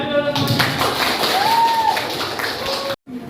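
A classroom of students applauds, a dense patter of clapping from many hands that runs for a few seconds, with voices mixed in and a brief cut near the end.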